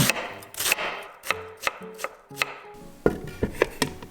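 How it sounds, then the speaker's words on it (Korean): Half a cabbage shredded with a knife on a cutting board, producing a quick series of sharp, close chopping taps with uneven gaps and no voices. "양배추 반개 채 썰고"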